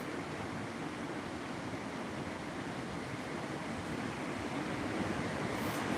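Sea waves wash steadily onto the beach at Cửa Việt, a continuous, even surf roar mixed with wind, faint and distant with no talk.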